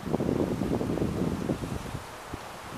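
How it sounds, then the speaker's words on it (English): Steady breezy wind rushes across a cold-front campsite, a continuous blustery roar with buffeting gusts that ease off toward the end. "Quite breezy though."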